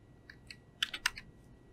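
Quick, quiet typing on a computer keyboard as a zip code is entered for shipping rates, a short burst of sharp key clicks close by with no talk.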